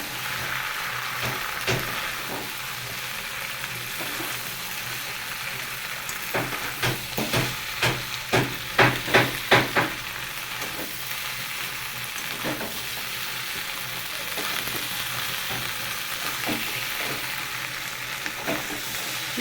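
Cooked rice being stirred into a fish head curry in a frying pan, a constant loud sizzle with a cluster of rhythmic scraping strokes midway, close by, no voices.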